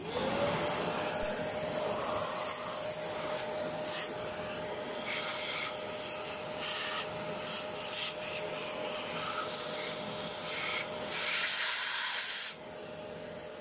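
A vacuum cleaner runs steadily, sucking with a loud broadband whooshing hiss and a faint whine while cleaning around a Manet Tatran 125 scooter engine, with intermittent rubbing and scraping noises and a slight drop in level near the end; no talking.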